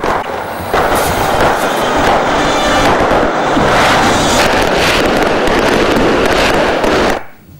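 Grand fireworks display closing a national commemoration ceremony in Algeria, a loud continuous barrage of crackling bursts and booms that fills the whole stretch before cutting off abruptly.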